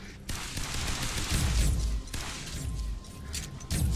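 Rapid gunfire from shooting aliens and robots in the video game Beacon, a dense continuous fusillade with brief gaps, moderately loud throughout.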